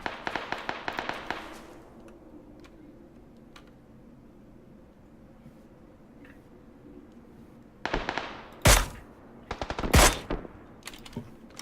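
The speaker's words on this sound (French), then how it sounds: "Ça tire en dessous de nous aussi." Gunfire in a battle royale video game: a quiet stretch, then a cluster of sharp, loud shots and short bursts near the end, with smaller clicks and taps scattered around them and no talk.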